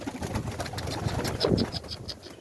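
Soft, low pigeon cooing rises briefly in the middle, set against a steady background murmur, fairly close.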